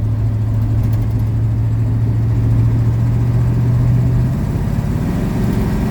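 A car engine rated at 180 horsepower drones steadily and close, its low note holding and then dropping away near the end as the gears change, with no one talking.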